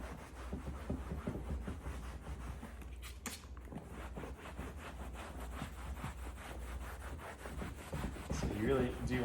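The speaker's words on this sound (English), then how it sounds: "you really do want to give it a good scrub, because that's what's going to help release some of the dirt" The leather seat of a Ferrari F430 is scrubbed with cleaner in a soft, continuous rhythmic rubbing that sits close but fairly quiet, with a brief louder scrape partway through.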